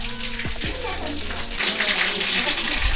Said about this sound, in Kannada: ಇಲ್ಲಿ ನೀರು ಬೀಳ್ತಾ ಇದೆ